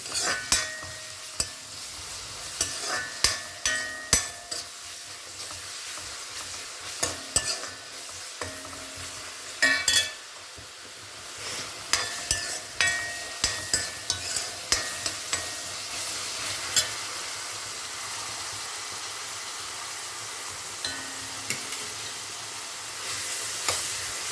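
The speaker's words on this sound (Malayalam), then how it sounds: "നമ്മൾ വെളുത്തുള്ളിയും ഉള്ളിയും ഒക്കെ ഇട്ട് നന്നായി മൂപ്പിച്ച്" Garlic and onion frying in a pan for Kerala-style kovakkayi upperi, with a continuous sizzle broken by repeated scraping stirs of a spatula against the pan, close and busy, settling into plain hissing toward the end.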